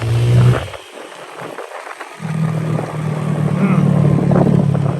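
A scooter engine hums while riding in Thailand. The drone drops briefly, then returns and holds steady with wind noise under it.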